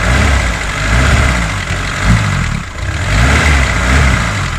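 A motorcycle engine idles with a carburettor fault, its idle running too low even when warm. A steady, close, slightly wavering low rumble carries on alone, with a small dip in level partway through.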